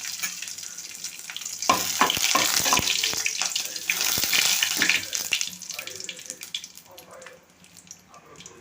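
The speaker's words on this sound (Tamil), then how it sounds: "எண்ணெய் ஊற்றி கடுகு உளுந்து போட்டு வட்டக்கனா போட்டு கருவேப்பிலை போட்டுக்கிறோம்." Mustard seeds, urad dal and curry leaves crackle and sizzle in hot oil while tempering coconut chutney, with a loud, steady hiss and sharp popping bursts that fade toward the end.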